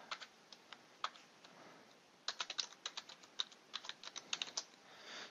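Keys on a computer keyboard are typed to enter a root password during a Kali Linux 2016 install, a few sparse taps and then a quick flurry of light, close clicks in a quiet room.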